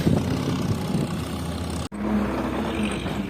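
An MTZ tractor engine runs steadily at a farm during a barley harvest, a continuous mid-pitched rumble that dips briefly and then carries on as the machine pulls away.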